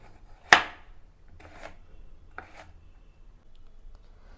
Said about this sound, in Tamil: 2 சில்லையும் இந்த மாதிரி நான் இப்போ பொடி பொடியாக நறுக்கி வச்சிடுறேன்.